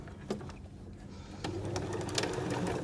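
A sewing machine stitches the sides of a cutlery pouch made from a napkin, a quiet, close mechanical whir with faint clicks, growing slightly louder partway through.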